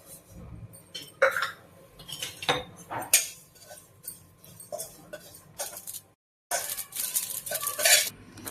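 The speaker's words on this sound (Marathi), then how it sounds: "थोडीशी खसखस भाजून घेऊया" A utensil scrapes and stirs poppy seeds roasting in a pan with irregular clinks and scratches, nearby and moderately loud, pausing briefly before resuming.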